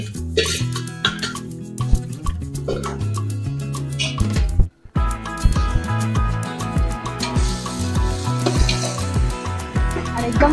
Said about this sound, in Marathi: आणि एकदम व्यवस्थित सगळ्या भाज्या हलवून घ्यायचे.